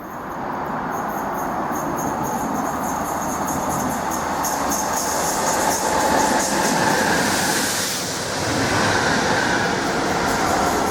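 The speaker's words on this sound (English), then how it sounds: "we've just had a railhead treatment train, top and tailed by Class 66 diesel locomotives, pass through platform 3 at speed" A railhead treatment train hauled top and tail by Class 66 diesel locomotives passes through a station platform at speed, a steady loud roar of rolling wagons with clattering wheels and a rising rush around the middle, no voices.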